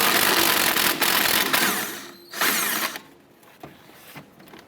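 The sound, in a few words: power tool removing upper clevis fork bolt with 14mm socket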